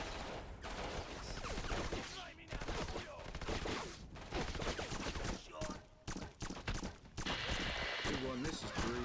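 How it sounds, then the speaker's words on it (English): Dense, rapid bursts of gunfire in a video game gunfight in Strangely Normal: Black, loud and nearly continuous with brief gaps and mechanical clatter between volleys. "What do you mean nothing heard? You're in a gunfight, dude."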